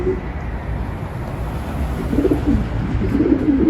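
Low, soft cooing from pigeons being trained at night, a close murmuring that swells slightly toward the end. No clear wing flapping stands out, and no one speaks.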